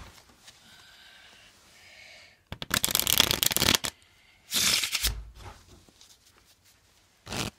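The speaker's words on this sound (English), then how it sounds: "shuffle into the deck." Two bursts of playing cards being riffle-shuffled, crisp and close, with a brief quieter rustle after a pause; no talking.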